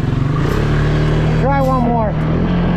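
A Can-Am Outlander ATV engine runs loud and close with a steady, buzzy idle drone and a brief blip of the throttle, while voices talk over it.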